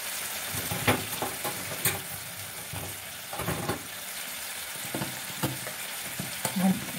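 Asafoetida and Kashmiri chillies fry in hot oil in a pan for a coriander-leaf pickle, giving a steady close sizzle broken by frequent sharp pops and crackles.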